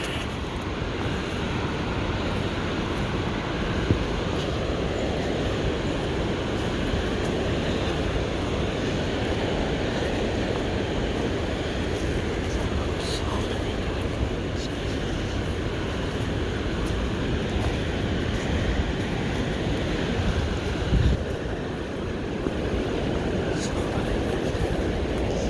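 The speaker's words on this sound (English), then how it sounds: "Judging by the roar of the water," A steady, loud roar of rushing water fills the whole stretch without a break, heard near a trail with stairs off the Trans-Taiga Road between Matagami and Radisson.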